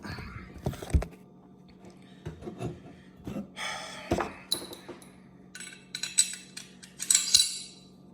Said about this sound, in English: I'm gonna put the gun back together